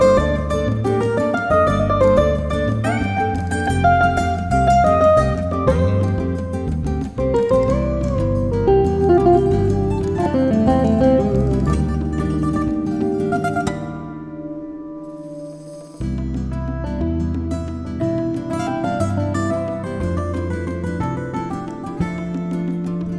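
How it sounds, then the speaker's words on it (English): Sampled guitars from the free Muse Sounds Guitars Volume 1 library play a continuous, full-sounding musical passage with strummed and picked notes. A short drop near the middle breaks it before the playing resumes, loud and without any voices. "a brand new free library of carefully sampled high quality guitars"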